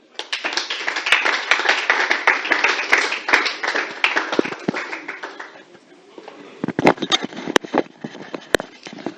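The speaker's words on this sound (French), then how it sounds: "que nous allons devoir inviter en applaudissant fortement." Audience members at an international women's rights conference clap loudly to welcome a female journalist to the stage: dense applause for several seconds, then it thins to scattered, sharp individual claps near the end.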